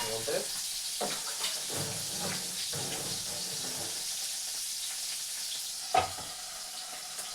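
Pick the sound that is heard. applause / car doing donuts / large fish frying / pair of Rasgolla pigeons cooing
large fish frying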